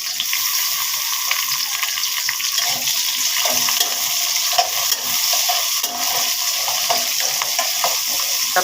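Chopped onions and green chilies fry in hot oil for a spiced liver dish, a dense continuous hiss with soft scraping as they are stirred, close and steady throughout.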